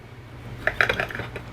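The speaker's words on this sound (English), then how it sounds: "I'm just gonna slice out a piece" Knife cutting bite-sized pieces from a steak on a plate, with a cluster of light metallic clinks and scrapes of cutlery against the dish, close and fairly quiet, no talking.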